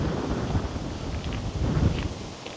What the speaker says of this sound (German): Aber ganz schön windig hier.